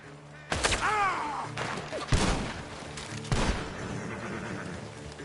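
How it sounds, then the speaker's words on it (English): Gunfire in the Red Dead Redemption 2 video game, coming from a barn: several loud, sharp shots spaced irregularly, with booming echoes and a whistling tone early on. "The gunshots are coming from that barn."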